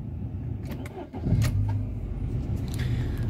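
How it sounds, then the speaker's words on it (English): A Rover 45 with a K-series 1.8 engine starts up: a brief starter crank, then the engine catches and settles into a steady, fairly close idle hum. "And that's the engine started."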